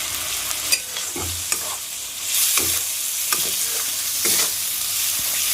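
Peas tossed in with soya chunks frying in a pan: a steady sizzle broken by repeated scraping strokes of a spoon stirring, loud and close, growing busier midway.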